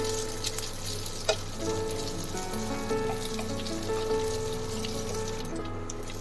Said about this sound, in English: Fry it for 5 to 10 minutes and it will be done